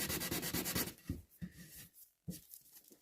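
Sandpaper rubbing across a wooden picture frame miter joint dressed with glue and sawdust, a run of quick close scratchy strokes followed by a few separate short rubs with pauses between them.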